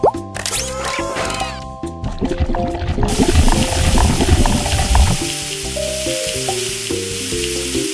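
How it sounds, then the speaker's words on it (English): Oil hits a hot frying pan in the Baby Panda Robot Kitchen game with a loud burst of sizzling that settles into steady frying crackle, with game-like musical tones playing alongside. "Add some oil first."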